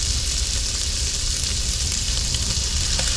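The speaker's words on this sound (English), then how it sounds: "stir our sausage until it starts to brown" Sausage browns in a hot pan with a steady, dense sizzle and crackle, loud and close, while occasional stirring scrapes run beneath it; no voices.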